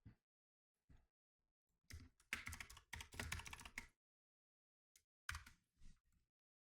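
Computer keyboard being typed on, with scattered single clicks, then dense bursts of rapid keystrokes, then a short final flurry, all quiet and close with no talking.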